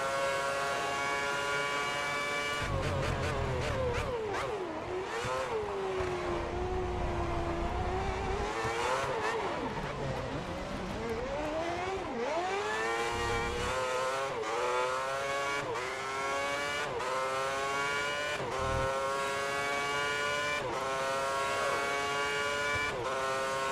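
F1 race car engines in the game F1 2010 scream through rising and falling gear changes on the opening lap, a loud, continuous whine with repeated upshifts and throttle lifts and no talking.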